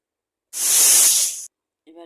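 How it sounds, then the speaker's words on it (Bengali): A pressure cooker vents a single loud, steady burst of hissing steam for about a second while boiling soaked lentils, then cuts off abruptly, followed by a brief voice. "দুই শীষ দিলে ডালটা সিদ্ধ হয়ে যাবে"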